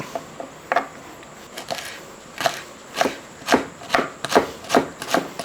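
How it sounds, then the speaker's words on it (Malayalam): Knife finely chopping spinach stems and leaves on a board, sharp close strikes that start sparse and irregular, then settle into a quicker steady rhythm of about two chops per second, with no talk. "ഇതേപോലെ ചെറുതായിട്ട് അങ്ങോട്ട് അരിഞ്ഞെടുക്കും ആ ഇലയും കൂടെ അങ്ങോട്ട് അരിഞ്ഞെടുക്കുക"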